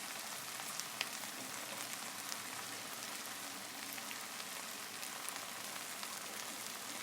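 Okra and onion frying in ghee or oil for masala bhindi, a soft, steady crackling sizzle with faint pops, quiet and continuous with no talk.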